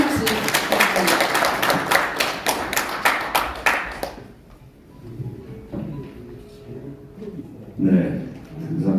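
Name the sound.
audience applause for the speaker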